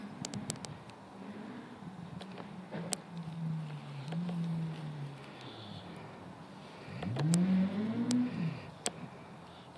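Rally car on a special stage at the Corbeau Rally in Tendring, heard at a distance as the engine surges and revs in rising and falling bursts, with a loud revving swell near the end over steady outdoor background.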